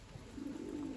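A pigeon gives a short, low, soft coo nearby, one brief throaty call against faint background noise.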